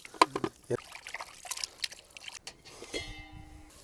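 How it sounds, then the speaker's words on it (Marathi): Mutton being washed with water in a village kitchen: irregular splashes, pours and trickles close by, with a sharp splash near the start and a thin running trickle near the end. "2 पाण्याने चांगलं मटण धुवून घ्यायचं आपल्याला."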